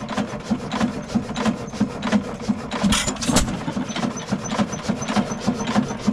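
Faultless 6 HP engine running with the choke barely cracked, a steady rhythmic chuffing pulse of regular firing strokes, near and fairly loud, with a couple of sharper knocks midway.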